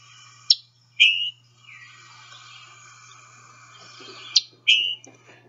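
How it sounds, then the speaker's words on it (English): A scarlet tanager gives chick-burr calls, sharp bright chirps followed by short buzzy burrs, in two pairs separated by quiet, close and clear over a low steady hum. "the only bird that produces a chick burr in our study area is the scarlet tanager"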